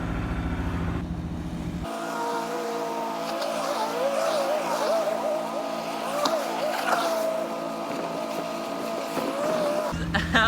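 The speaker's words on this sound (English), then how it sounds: "these are all like rental jet ski people just cruising" Several rental jet skis on the Intracoastal Waterway buzz and drone at varying pitches, passing nearby in a steady, overlapping hum.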